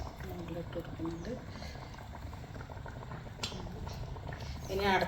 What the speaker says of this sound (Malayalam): തിളച്ച് മറിഞ്ഞു